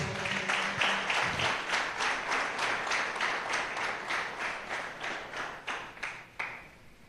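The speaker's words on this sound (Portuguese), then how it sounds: "Quem pode aplaudir o Senhor?" A church congregation applauds the Lord, a steady wash of many hands clapping at close range for several seconds, with a few sharper individual claps near the end and no talk over it.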